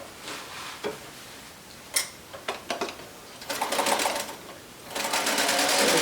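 A sewing machine stitches a quarter-inch seam on a churn dash quilt block, a few brief clicks and short bursts, then two longer, steady whirring runs of stitching close by, with no talk.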